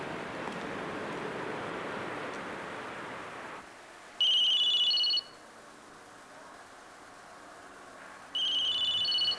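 A telephone rings twice in a quiet room, each ring a bright, trilling bell burst lasting about a second, separated by a few seconds of near silence after a fading background rush.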